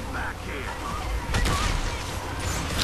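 Gunfire in Gears of War 3, the Gnasher shotgun among the weapons, comes as a dense burst of loud blasts, with a heavier boom near the middle.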